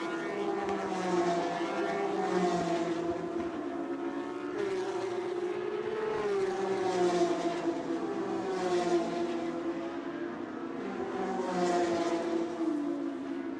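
Race car engine lapping the Sachsenring circuit during 2019 qualifying, a steady loud onboard drone whose pitch rises and falls repeatedly through gear changes, with no voices.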